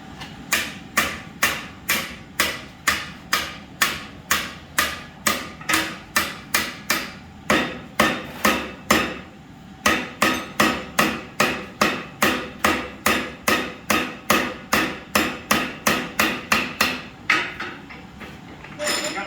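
A hammer strikes a center punch held against metal clamped in a vise, ringing out in a long, steady run of loud, evenly spaced blows. A short pause comes midway before the rapid hammering starts again.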